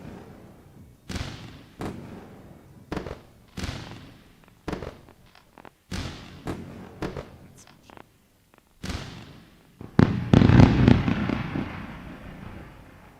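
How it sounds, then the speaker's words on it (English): Fireworks sound effect played during a live NQ futures day-trading stream: a dozen or so sharp booming bursts at irregular intervals, each trailing off in crackle, building to a dense, loud volley near the end. "I'm gonna run a show here with the fireworks."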